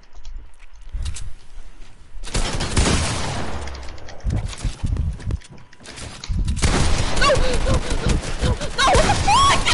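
Rapid bursts of gunfire in Fortnite, loud and continuous with short gaps, mixed with game effects and a player's shouting voice.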